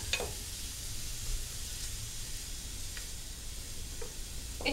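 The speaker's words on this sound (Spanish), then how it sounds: "Estamos rehogando." Onion and chard sauté in a pan with a continuous, even sizzle, close and moderate in level, broken by a few light clicks of a utensil against the pan.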